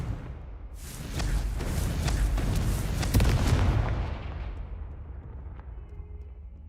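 A Confringo fire spell exploding in Hogwarts Legacy, a loud, booming blast with crackling bursts that swells for a few seconds, then trails off into a fading rumble.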